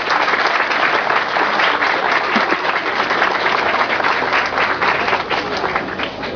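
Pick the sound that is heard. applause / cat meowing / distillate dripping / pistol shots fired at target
applause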